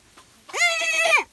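A single goat on a farm lets out one clear, close bleat lasting under a second, loud against a quiet background.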